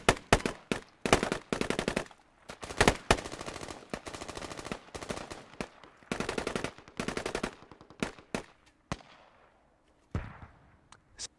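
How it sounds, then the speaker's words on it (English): M4 rifle gunfire in the video game Squad, loud close bursts of rapid shots broken by brief silences, ending with scattered single cracks and a fading echo. "Sounds like an M4 300."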